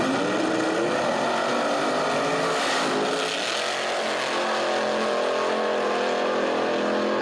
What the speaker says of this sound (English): So a little bit of tire shake and on and off the throttle